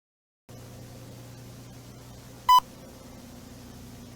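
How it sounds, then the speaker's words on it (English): One short electronic beep of the kind used when text pops up on screen cuts through a quiet background hum midway, clear and brief, with nothing else around it. "You know how it beeps every time text comes on screen?"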